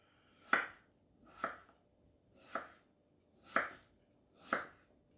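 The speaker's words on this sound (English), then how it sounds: "My sharp knife," Potatoes cut in half with a sharp knife on a board, five crisp, evenly spaced chops about one second apart, close and fairly quiet, with no talk.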